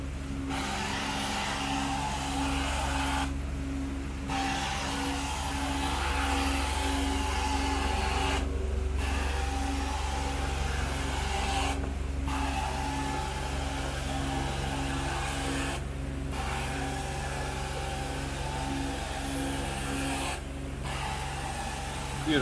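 Carpet cleaning machine spraying at 400 PSI while removing dog vomit from carpet: a loud, steady hiss and motor drone running throughout, with periodic brief dips and a constant low hum underneath.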